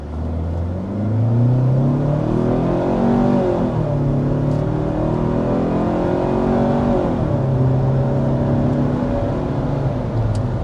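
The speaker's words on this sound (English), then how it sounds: "there we are, accelerating with the Sportage" A 2025 Kia Sportage SUV engine revs up and pulls hard, its steady rising drone shifting pitch through the gears, loud and close throughout without any talking.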